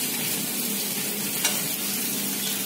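Sema kizhangu (yam) slices sautéing in a pan make a steady, even sizzle and crackle that holds at a constant level throughout, with a single brief utensil tick near the middle.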